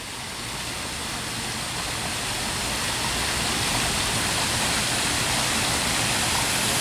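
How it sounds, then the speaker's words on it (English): A waterfall in a zoo habitat for Asian pond turtles pours in a steady, dense hiss and rumble that stays constant and fairly loud throughout, with no other sounds. "Section of that waterfall is very peaceful."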